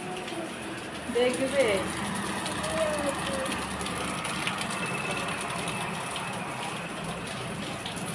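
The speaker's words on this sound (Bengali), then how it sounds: "কি জোরে বৃষ্টি পড়ছে" Heavy rain falls in a steady, dense hiss that runs through the whole stretch, with people talking over it at moderate volume.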